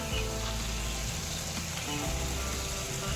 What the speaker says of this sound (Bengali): খুব ভালো মতো করে কষিয়ে নিচ্ছি